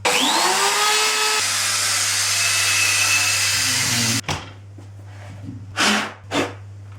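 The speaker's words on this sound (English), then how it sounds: "I have routed out the hole so it's a little bit bigger" A power router bores out the soundhole area of a 1970s Ibanez Concord Hummingbird-copy acoustic guitar, whining loudly and steadily for about four seconds before cutting off, then a few short scraping bursts as the wood is handled.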